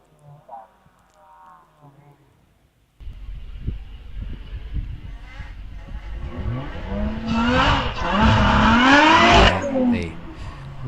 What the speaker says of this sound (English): The raucous exhaust note of the Lotus Exige V6 Cup car